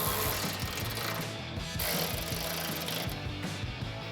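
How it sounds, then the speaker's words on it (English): A 10mm socket ratchet tightens headlight bolts on a 2007-2013 Chevrolet Silverado 1500, making a continuous rapid clicking, buzzing pawl rattle at close range with brief pauses between strokes. "So take a 10mm socket,"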